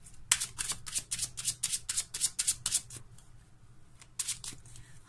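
Tarot cards being shuffled close by, a quick run of about ten crisp riffling bursts, then a pause and a few more at the end, with no talking.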